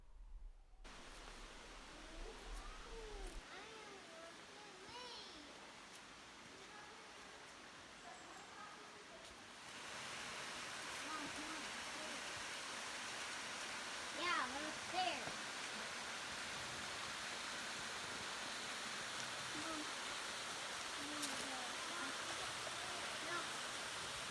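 Waterfall at Cheaha State Park, a steady faint rush of falling water heard from a distance that grows fuller midway, with scattered soft sounds in the background.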